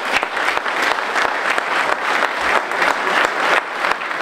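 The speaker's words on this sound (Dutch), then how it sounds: "Een heel hartelijk applaus voor..." An audience at a Rooi fire brigade jubilee ceremony claps steadily and warmly, dense applause filling the room for the whole stretch without a voice on top.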